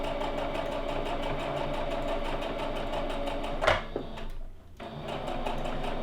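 A sewing machine stitching the hem of a tiered ruffle skirt, running at a slow, steady hum and rattle, close and continuous, briefly pausing near the end before starting again.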